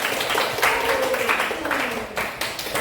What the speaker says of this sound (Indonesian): Beri tepuk tangan untuk kita